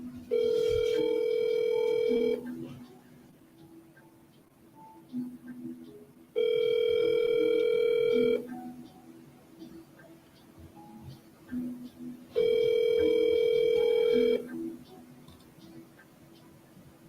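A telephone call rings before going to voicemail: three long, evenly spaced ring tones about six seconds apart, clear and steady over a low background hum.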